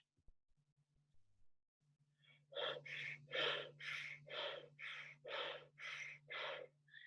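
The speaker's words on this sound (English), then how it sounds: "You can hear there's sort of like a little bit of a whistly sound." Slow, steady breaths drawn in and out about eight times, each with a faint airy whistle, close up, over a low steady hum.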